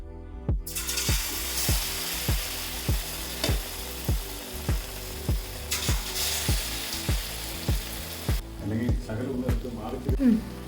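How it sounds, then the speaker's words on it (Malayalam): Oil sizzles and bubbles steadily as chili fritters deep-fry over a low flame, punctuated by a regular series of soft knocks, with a brief burst of louder crackling near the end. "ചെറിയ തീയിലിട്ട് നമുക്ക് ഓരോന്നായിട്ട് വറുത്തെടുക്കാം."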